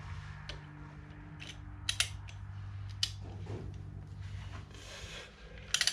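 Socket wrench with a six-sided socket ratcheting during an R53 Mini engine swap, quiet scattered clicks and metallic ticks over a low steady hum, close but faint.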